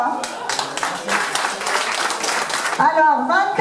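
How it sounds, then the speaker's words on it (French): An audience at a 2014 sporting awards ceremony in Grémévillers claps and applauds, a dense burst of hand claps lasting about three seconds before a voice speaks over the end. "Donc applaudissez encore une fois."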